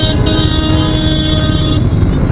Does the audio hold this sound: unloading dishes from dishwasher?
no